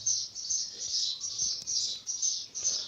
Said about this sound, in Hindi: घर में चिड़ियाँ हैं, चिड़ियाँ चहचहाती रहती हैं